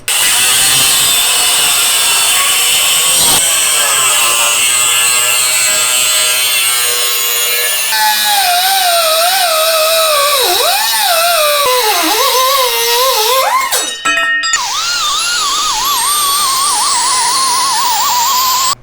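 A power tool cuts the steel of a Land Rover LR4 Terrafirma spare wheel carrier, a loud close shrill whine whose pitch dips and wavers as the cut loads it, with a brief clatter near the end.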